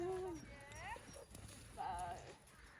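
Horse hooves clop at an easy pace while a person talks nearby.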